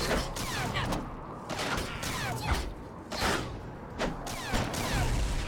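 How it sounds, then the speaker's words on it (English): Bomb explosions in the fantasy online game Wildstar, heard as a dense, loud stretch of repeated bursts and whooshing blasts, several in quick succession amid continuous game combat noise. "That was a bomb."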